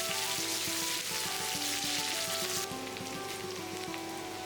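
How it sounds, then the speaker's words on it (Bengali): Chopped onions, about half a cup, frying in hot oil already used for frying taro, giving a steady dense sizzle that runs unbroken throughout, close and fairly loud, with faint clinks of stirring. "কচুরমুখী ভাজার তেলেই দেওয়া হচ্ছে পেঁয়াজ কুচি আধা কাপের মতন"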